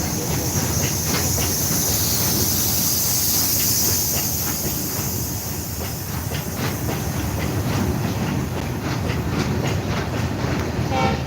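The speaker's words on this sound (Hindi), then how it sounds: "52 बोगी का ये माल ट्रेन है।" A 52-wagon freight train rolls steadily over a railway bridge near Nirmali station, its wagons making continuous loud rumbling clatter with repeated clickety-clack joints and a high hiss throughout, with no voices over it.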